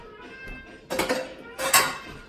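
Beef liver laab is stirred in a bowl with a utensil: two short bursts of clattering, scraping contact, close and fairly loud, separated by a brief pause.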